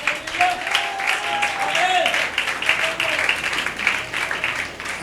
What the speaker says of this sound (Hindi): अपने लिए तालियां बजा दें जरा।